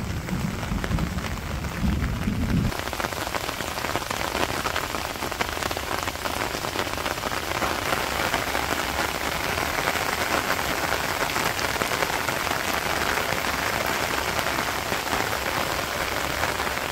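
Heavy rain pours over a Bangladeshi village, a dense, steady hiss of drops striking surfaces that stays loud and unbroken throughout, with a slightly different patter in the first seconds.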